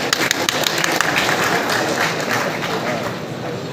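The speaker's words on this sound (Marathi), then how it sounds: "एकदा पुन्हा त्यांच्यासाठी उत्स्फूर्त आणि उदंड टाळ्यांचा प्रतिसाद होऊ दे." Audience applause at an Akhil Bharatiya bhajan sammelan, a devotional singing gathering in Konkan, with dense, steady clapping filling the whole stretch at close range, fading slightly toward the end.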